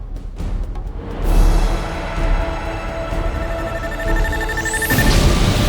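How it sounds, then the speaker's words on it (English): An explosion in a Twisted Metal: Black video game cutscene gives a dense, loud rumbling roar with a deep boom that swells and holds, followed by crackling debris and a rising whoosh near the end. "The explosion knocked me out."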